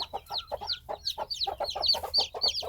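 Chickens cluck rapidly and repeatedly nearby, with high peeping chirps of newly hatched chicks mixed in, a busy overlapping chorus.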